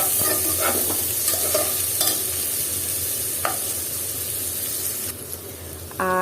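Chopped onions fry in oil in a pan and are stirred, giving a steady close hiss and sizzle with a few scraping spoon strokes near the start, continuing evenly without talk.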